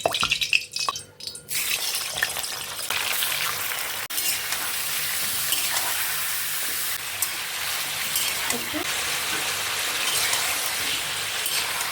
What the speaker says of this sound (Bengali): আমি চিকেনটাকে আগে ভেজে নেব